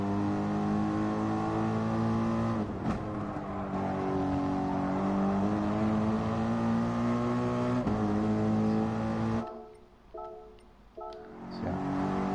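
A race car lapping Brands Hatch in GT Sport, its engine holding a loud, steady, buzzing tone that rises and falls through gear changes, then drops sharply as the car brakes hard before a corner and revs back up.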